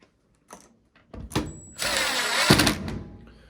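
A power drill drives screws into a part of a Whirlpool washing machine, starting with a few short tool sounds and clicks, then running in a loud, near burst of whirring that lasts more than a second.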